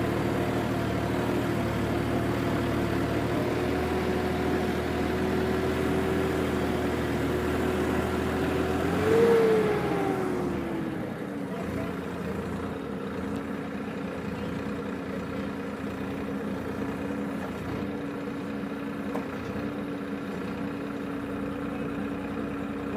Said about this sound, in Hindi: ट्रैक्टर का जोर थोड़ा सा ज़्यादा लग रहा है